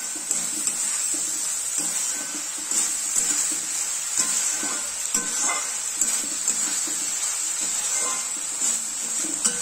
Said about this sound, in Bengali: ঢাকনাটা খুলে নাড়ছি, নেড়ে দিচ্ছি